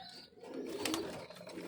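Pigeons with swollen eyes and colds give a soft, faint coo in a short, quiet burst, heard close by with no talking.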